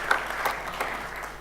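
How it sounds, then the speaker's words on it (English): Brief burst of audience applause at a Muay Thai press conference, steady clapping at moderate level for about a second and a half with no voices. "Can we have a big round of applause, please"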